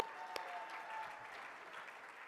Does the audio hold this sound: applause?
yes